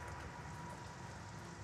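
Rain falls steadily on a field of idle solar panels, a dense, even hiss of drops with no pauses, faint and continuous throughout.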